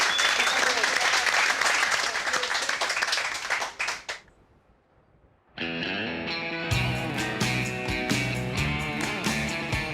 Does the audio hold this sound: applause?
yes